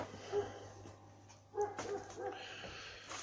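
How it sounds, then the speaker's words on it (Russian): A few faint, distant dog barks ring out in short bursts outdoors at dusk beside a backyard smokehouse, with a quiet background between them. "Уже собачья гавка."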